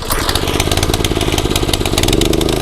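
California Trimmer reel mower engine catching after a pull start, settling at once into a loud, close, rapid steady putter with no pause.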